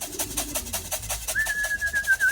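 A trained bird calls its mate with soft, rhythmic low cooing at first, then a thin sustained whistle-like note. The sound is quiet and close, with light background noise.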